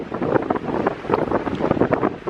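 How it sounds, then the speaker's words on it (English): Strong wind buffeting the microphone in loud, rumbling gusts that rise and fall continuously, no voices. "It is super windy."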